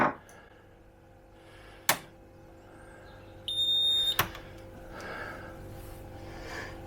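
A freezer alarm gives a short, clear electronic beep partway through, set among a few sharp knocks and the quiet background hum of the freezer's motor, just started after defrosting, indoors.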